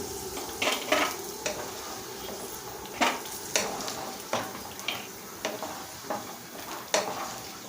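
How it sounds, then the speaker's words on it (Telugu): Cashew nuts frying in oil for pulihora sizzle steadily in a pan, while a spoon stirs and scrapes against the metal in regular close clinks. "జీడిపప్పు ఇలాగా లైట్ బ్రౌన్ కలర్ వచ్చినప్పుడు తీసేయండి"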